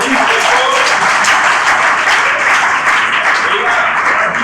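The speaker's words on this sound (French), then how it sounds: "on peut applaudir très fort" An audience at a school broadcast on girls in science claps loudly in dense, sustained applause that fills the whole stretch, with voices faintly mixed in.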